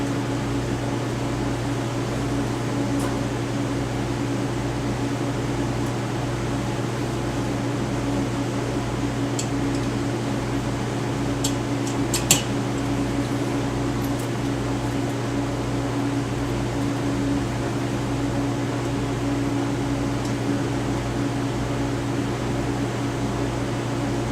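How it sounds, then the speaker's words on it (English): A washing machine running, a steady low mechanical hum and drone that stays constant throughout, with a few faint clicks and no talking. "And then our washer's on."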